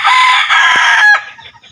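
Rooster crowing loud and close, a single sustained cock-a-doodle-doo call that breaks off near the end, with no talking over it.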